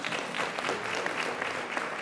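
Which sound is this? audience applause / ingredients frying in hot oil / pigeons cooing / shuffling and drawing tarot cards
audience applause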